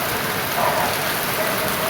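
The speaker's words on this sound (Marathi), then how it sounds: "भरपूर पाऊस लागलेला असतो" Heavy monsoon rain falls over Mumbai's hilly outskirts, a loud, unbroken roar of downpour on surfaces that stays steady throughout, with no voices.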